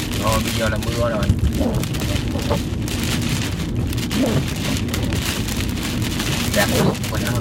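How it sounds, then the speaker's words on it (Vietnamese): Heavy rain pours steadily onto a freeway road, a dense continuous wash of drumming close around, with a few faint voices or sounds surfacing briefly beneath it. "Rồi bây giờ là mưa rồi."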